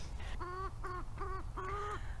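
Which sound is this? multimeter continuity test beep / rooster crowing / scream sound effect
rooster crowing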